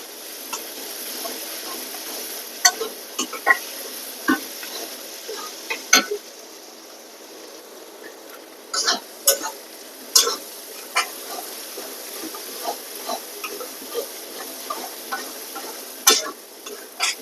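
Onions frying in oil for a dried fish curry, with a steady soft sizzle and hiss running throughout, broken by scattered clicks and sharp stirring scrapes of a utensil against the pan.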